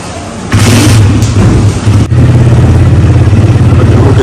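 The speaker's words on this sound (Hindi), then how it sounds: "बाइक पे आ रही है।" A motorbike engine runs steadily while the bike is ridden, a loud continuous low drone starting after a brief moment and holding through to the end.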